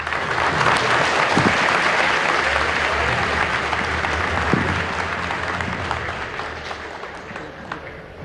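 Loud, sustained applause from a large crowd at an international meeting of Latin American teachers, a dense steady roar of clapping lasting several seconds and slowly easing toward the end.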